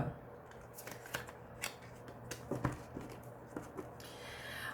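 A deck of tarot cards handled and cut, producing a series of crisp card snaps and slides with soft rustling in between, fairly close and quiet, with no speech over it.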